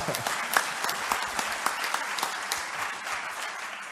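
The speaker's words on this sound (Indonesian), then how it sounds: "Beri aplaus buat Pak Jihad." Audience applause at a Christian business convention in East Java fills the hall with dense, steady clapping from a crowd, even and sustained with scattered sharper claps throughout.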